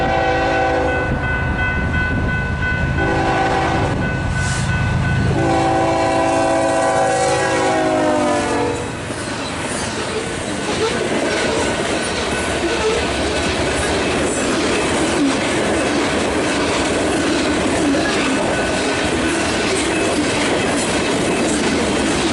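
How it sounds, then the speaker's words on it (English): A West Tennessee Railroad freight train departs Fulton heading south, horn sounding in long chords early on, then a loud, steady roar of passing cars with clickety-clack and faint wheel squeal close by. "we then got surprised by this West Tennessee train leaving Fulton headed south"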